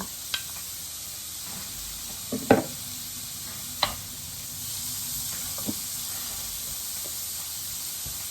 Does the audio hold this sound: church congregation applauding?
no